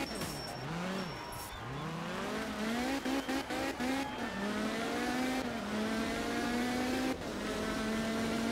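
Rally car driven in the video game art of rally, engine revving up and down through repeated gear changes with rising pitch sweeps, loud and close, with brief tire noise.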